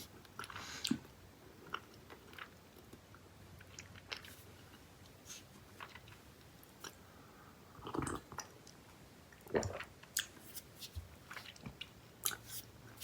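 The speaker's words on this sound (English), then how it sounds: "You can hear the crunches." Freeze-dried Skittles sour candy crunched up close, with sharp irregular bites and chewing crunches scattered through otherwise quiet moments, strongest bursts around the middle and end.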